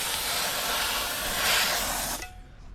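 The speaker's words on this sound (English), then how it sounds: "so we gave that a little steam cleaning" Steam cleaner blasting a loud, continuous hiss onto a car's chrome trim for about two seconds before cutting off abruptly, leaving a faint residual hiss.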